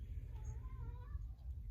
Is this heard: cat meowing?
yes